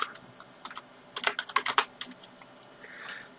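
Keys clatter on the keyboard of a 1990 IBM PS/1 286 PC in a quick, irregular burst of close clicks that bunch up midway, then thin to a few taps.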